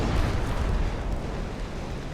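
Heavy warship turret guns firing in Ultimate Admiral: Dreadnoughts, a dense, continuous rumbling roar of blasts that blur together with no clear gaps, loud and close throughout.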